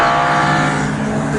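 Rally cars, including a Subaru, race up a hill at Cadwell Park, their engines roaring loud and close in a continuous, strained drone as they climb.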